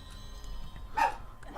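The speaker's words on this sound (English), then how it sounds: "And the dog barked again." A dog barks twice, short sharp yips close by at an indoor setting while a video game is played, separated by a brief pause with faint background noise.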